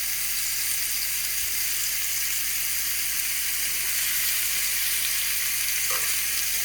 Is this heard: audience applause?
no